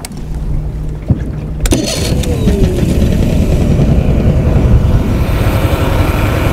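A four-stroke motorcycle engine, freshly carburettor-synchronised, catches with a sharp burst about a quarter of the way in. It then runs loudly and steadily at close range, with a faint hum and clicks before it starts.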